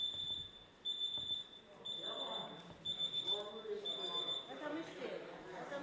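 In the House of Representatives chamber, a smoke alarm beeps in a repeated shrill high-pitched pattern, with people talking and murmuring underneath.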